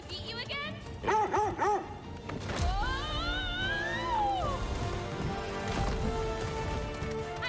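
A dog in God of War Ragnarok gives a quick series of sharp barks, followed by swooping musical tones and game sounds with a voice speaking over them.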